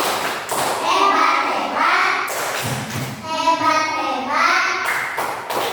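Indonesian fourth-grade children chant the rhythmic 'tepuk hebat' clapping cheer in a classroom, sung voices in unison punctuated by sharp claps in a patterned beat, close and lively.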